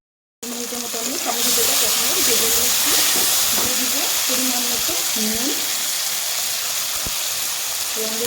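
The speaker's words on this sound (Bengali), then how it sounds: "দু মিনিটের মতো টমেটোটাকে আমি একটু ভেজে নেব" Chopped tomato frying in a pan for a vegetarian pointed gourd dish, giving a steady loud sizzle and hiss under a voice that speaks intermittently over it.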